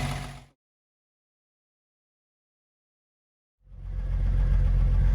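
A 1949 Willys Jeepster's six-cylinder Lightning engine, running smoothly without smoke, gives a low, steady idle rumble heard briefly at the start and again at the end, with a few seconds of silence between.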